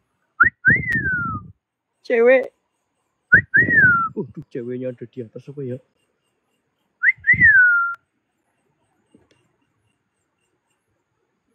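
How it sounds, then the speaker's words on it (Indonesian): A person whistles short rising-and-falling notes several times, alternating with bursts of talking, then silence. "Coba bersiul."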